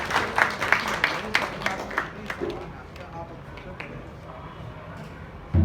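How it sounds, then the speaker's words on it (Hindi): A seated crowd at a Bindapur community gathering for Narendra Modi's birthday claps in welcome for a local party official. The brief, scattered applause fades after about two seconds, and a speaker then continues over a quiet room. "तालियों के साथ स्वागत होगा।"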